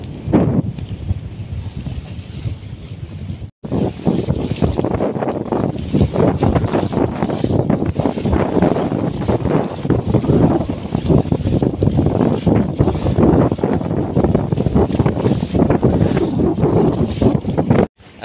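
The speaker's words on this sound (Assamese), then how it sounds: "বতাহ মাৰি আছে" Strong gusting wind from Cyclone Remal in the Maldives roars loud and constant, buffeting the microphone with heavy rumbling turbulence for the whole stretch and only a brief dropout early on.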